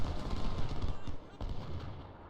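Skirmishers firing muskets in the Civil War strategy game Ultimate General: Civil War, a dense, continuous crackle of overlapping shots with a low rumble underneath, loud and unbroken for a couple of seconds.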